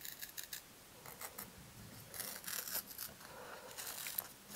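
A hobby knife lifts and peels a part on an Apogee Nike Hercules model rocket, producing faint close scratchy scraping in short irregular strokes, alone and very quiet.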